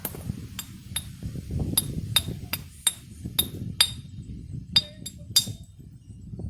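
Sharp clinking taps come in an uneven series of about a dozen strikes as a flake is knocked off a glass bottle bottom during knapping, close by, over a low rumbling background.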